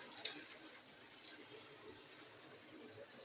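Water from the shower spout of a newly installed in-shower water heater runs faintly and steadily, a soft hiss with light splashing throughout.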